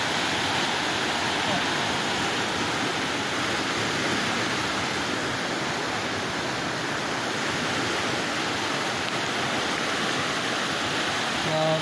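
Loud, constant roar of rushing water, a dense unbroken wash of sound close by with no pauses, a river swollen by heavy mountain rain in full flow.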